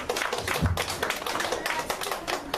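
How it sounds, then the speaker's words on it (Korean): A church congregation clapping during a Sunday service, a dense burst of many hands applauding at close range with a low voice briefly underneath. "예, 박수."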